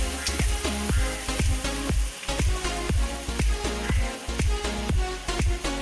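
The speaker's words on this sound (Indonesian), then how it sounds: "Dan sekarang kita langsung masukin santannya ya teman-teman." Coconut milk is poured into sambal frying in oil for beef rendang. It makes a close, steady sizzle with rhythmic stirring and scraping sounds throughout.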